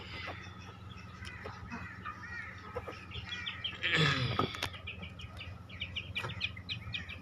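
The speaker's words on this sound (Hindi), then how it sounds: "बाकी ये तुम्हारे चूजे घूम रहे हैं" Aseel chickens and chicks wander nearby, with repeated faint cheeping and clucking over a low background hum. A brief louder squawk stands out midway.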